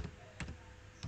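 Keystrokes on a computer keyboard while working in RStudio, a few sparse, soft clicks spaced apart rather than a steady run of typing, quiet and close with no speech.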